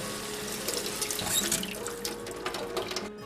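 Drained dried fruit gets a quick rinse under a running kitchen sink tap, a close, continuous splashing stream with small drips and spatters, no voices.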